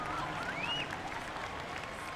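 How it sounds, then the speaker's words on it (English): Crowd at a Formula Drift Seattle 2022 Pro Top 32 battle cheering and stomping feet, a steady dense roar of applause and noise throughout, with a faint whistle-like tone rising briefly near the start. "The crowd erupts and stomping their feet for this amazing battle"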